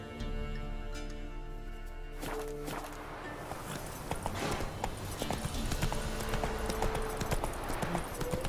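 The horse Roach clip-clops along in The Witcher 3, steady hoofbeats close and prominent over faint ambient game sound, picking up slightly in pace toward the end, with no talking.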